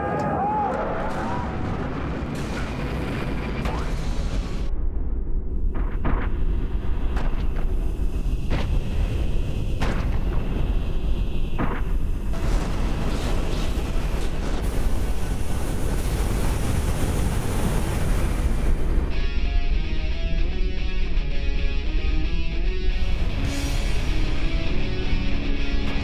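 A rocket launch rumble sound effect plays as a sustained, loud, low-heavy roar that swells and shifts in texture over many seconds, with a voice faintly present at times.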